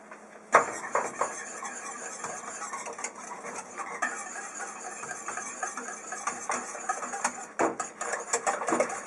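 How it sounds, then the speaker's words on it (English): Cream of onion aioli soup being whisked in a pot, with continuous close clinking and scraping of the whisk against the pan, irregular strokes and sharper taps throughout. "take a whisk and just go ahead and whisk it up"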